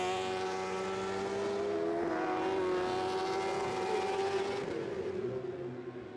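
A superbike racing motorcycle at the Imatranajo road circuit screams past at high revs, its engine note holding loud and close before dropping in pitch and fading as it brakes for a chicane.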